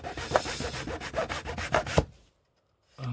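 Quick rasping strokes of a file across the wood of a model railway goods shed, about eight in a steady back-and-forth rhythm, close by, then a pause of silence before a faint thump.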